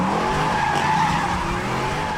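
Dodge Challenger SRT8 muscle car tires skidding, a loud continuous screech with a steady pitch held over the engine's roar for the whole stretch.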